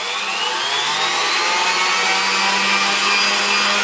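A stand mixer whirs loudly and continuously whipping Swiss meringue, with a high, steady motor hum and a bright whooshing of beaters.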